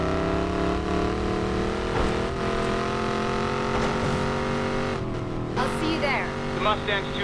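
Mustang engine revving during a video game highway car heist: a loud, steady engine drone with shifting pitch runs throughout, with game sounds over it toward the end.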